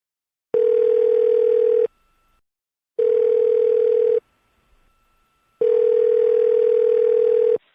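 Three long, steady telephone tones sound in a repeating pattern, each lasting over a second with short silent gaps between them.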